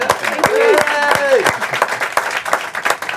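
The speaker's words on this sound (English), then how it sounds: "So let's give them a round of applause real quick." Applause from a small live podcast audience, a handful of sharp separate claps mixed with whoops and voices talking over the clapping.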